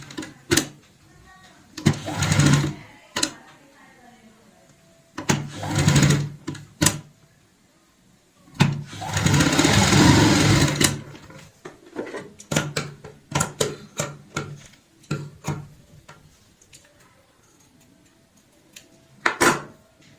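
A sewing machine stitches piping onto a cushion cover in short intermittent runs separated by pauses, with sharp clicks and handling knocks between the bursts of motor noise.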